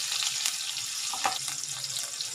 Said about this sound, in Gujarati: તેલ ગરમ થઈ ગયું છે તો એમાં નાખીશું જીરું।